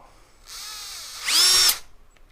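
A power drill turns a left-handed bit against a broken tap, rising from a steady whine into a brief louder, higher burst before cutting off, close and alone.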